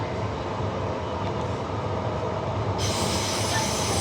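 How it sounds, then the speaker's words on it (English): A Gosnells-terminating train on the Armadale line during a night closure rumbles past steadily at close range, with a continuous rolling roar and faint wheel squeal throughout. "now we just have this one random Gosnells train, only one"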